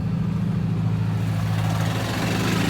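A Ford Mustang's fuel pump runs with a steady, loud low electric hum that stays even throughout, with no voices.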